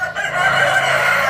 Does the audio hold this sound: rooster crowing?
yes